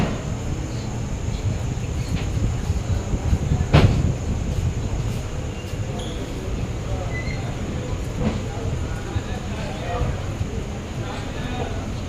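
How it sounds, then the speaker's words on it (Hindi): Varanasi to Bareilly overnight express departing a platform at Ayodhya Cantt railway station at night, a steady low rumble of rolling wagons with a sharp clank partway through and voices in the background. "Varanasi to Bareilly overnight express का डिपार्चर हो गया।"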